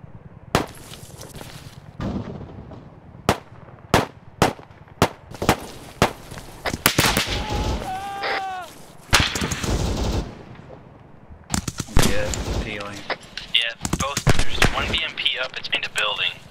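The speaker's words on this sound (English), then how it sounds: "The artillery is coming in town, too." Artillery and gunfire in the military video game ARMA 3: a series of loud, sharp booming blasts at irregular intervals, thickening into dense overlapping shots and rumbles, with voices talking in between.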